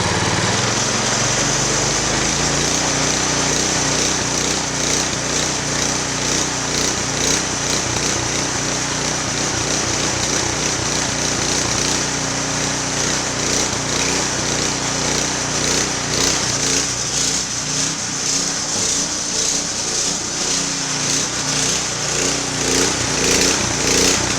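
A mid-1970s tiller's small engine roars continuously at wide open throttle, a loud, buzzing, close drone that stays steady throughout with slight fluctuations in its rapid beat.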